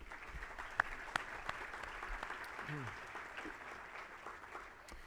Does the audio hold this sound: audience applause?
yes